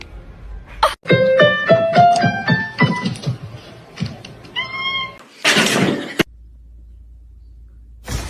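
A kitten meows and cries repeatedly in short, rising and falling calls, loud and close, with a brief rustling burst near the end before the sound drops away.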